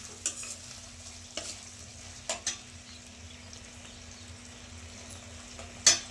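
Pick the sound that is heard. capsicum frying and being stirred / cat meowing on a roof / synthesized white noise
capsicum frying and being stirred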